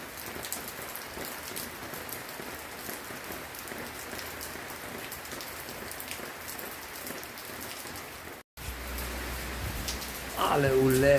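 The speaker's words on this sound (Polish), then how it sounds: "a teraz znowu leje" Heavy rain pours steadily in a dense, even hiss of drops beating on surfaces. It goes on without a break for about eight seconds, cuts off for a moment, then returns, and a faint voice is heard near the end.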